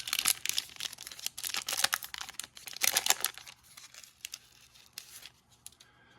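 Star Wars Power of the Force card packs being cut open, with bursts of crinkling foil wrapper and snipping close up, busy at first and then thinning into quieter rustles.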